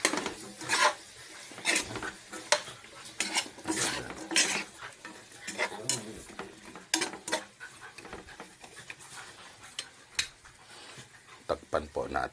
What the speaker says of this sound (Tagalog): Ayan, then haluin po natin.